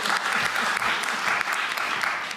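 An indoor audience at a public event breaks into brief, steady applause, a dense wash of clapping that holds at an even level and tapers slightly toward the end, with a faint voice underneath.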